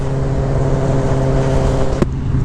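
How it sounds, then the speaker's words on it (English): A 2021 Kawasaki ZX-10R motorcycle engine drones loudly and steadily up close, with a single sharp exhaust pop cracking out near the end. "Getting a few pops in this exhaust."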